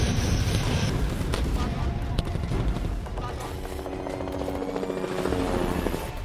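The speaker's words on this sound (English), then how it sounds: "you can see the Rudra helicopter of the aviation of Indian Army" An Indian Army Rudra helicopter flies over a firepower demonstration at Pokhran, its rotor and engine roaring loud and steady throughout, with sharp bangs from the demonstration mixed in.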